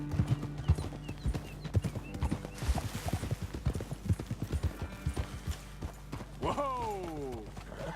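Horse hooves clip-clop steadily in Red Dead Redemption 2, several animals moving together with a whinny near the end, game music and a voice speaking underneath.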